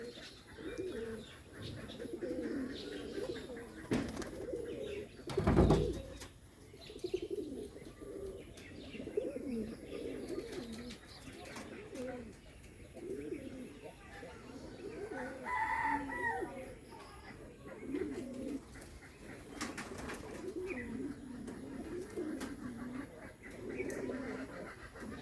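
Bombay pigeons coo in repeated soft, throaty rolling phrases close by, with a brief loud rustle or flap partway through and faint background noise.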